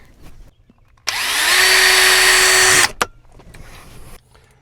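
A power drill bores a pilot hole for a screw while installing a plate dispenser inside an RV, a single close, loud whine lasting nearly two seconds, bracketed by quiet handling noises.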